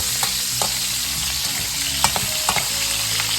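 Chicken sizzles steadily with garlic in a hot pan, a continuous close frying crackle broken by occasional spatula scrapes and taps, with no talking.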